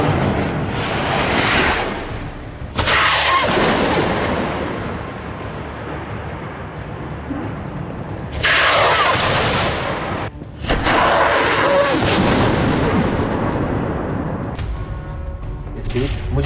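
Combat gunfire and rocket fire from fighting in Jabalia, Gaza, with loud sustained bursts and booming blasts that come and go in several waves across the clip, dense and close.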